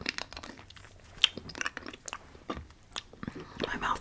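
Crunchy Thai snack treats are bitten and chewed close to the microphone in an ASMR eating session, giving a string of irregular crisp crunches and smacks with quiet pauses between them.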